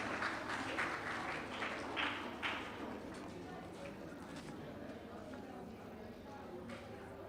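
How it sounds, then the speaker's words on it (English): Applause from the audience at a primary school graduation ceremony honoring the graduating class, a dense clatter of clapping that is strongest in the first few seconds and then settles into steady, slightly softer clapping for the remainder. "Let's give them a round of applause."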